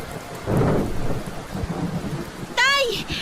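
Heavy typhoon rain pours with rolling thunder, a loud rumble swelling near the start and a rising tonal whoosh near the end, no voices.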